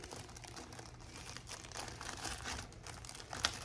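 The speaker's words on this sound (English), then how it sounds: "I apologize for the crinkling." Fabric wrapped in crinkly plastic packaging rustles and crackles softly and continuously close by, with one sharper crinkle near the end.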